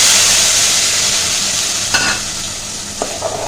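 A blended paste of onion, garlic and ginger fries loudly in oil for chicken korma, hissing steadily. A few spoon scrapes from stirring cut through the sizzle.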